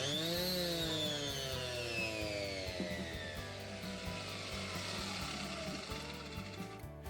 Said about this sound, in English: This here is a small 125mm 5-inch orbital sander by Bosch, and it works fine for me.